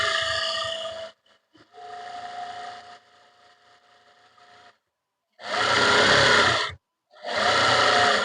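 A sewing machine stitches a kurti collar in several short bursts, close and loud, with brief quiet gaps and softer handling sounds between the runs.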